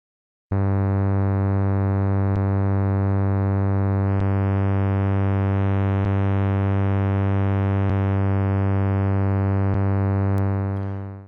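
A single sustained note from the Bazille synthesizer using phase distortion, with a buzzy, harmonically rich tone, held steady for about ten seconds with faint periodic clicks, then fading out.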